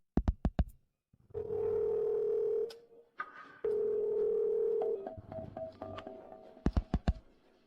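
A few short button beeps, then a phone ringback tone sounds in long repeated tones with pauses between them, followed by more quick beeps.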